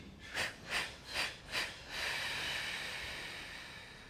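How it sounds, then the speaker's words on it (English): Pranayama breathing: four quick rhythmic sniffs in through the nose, then one long, steady, airy exhale through pursed lips, heard close and quiet with no voice. "You're going to inhale through the nose, and then you're going to make a whistle form and go"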